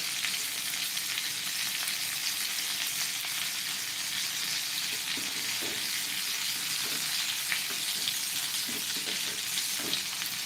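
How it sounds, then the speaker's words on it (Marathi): Bangda mackerel fries in a pan, giving an unbroken, even, close sizzle with a few soft clicks of stirring or turning partway through, and no one talking. "तुम्ही बघू शकता बांगडा चांगलासा फ्राय झालेला आहे"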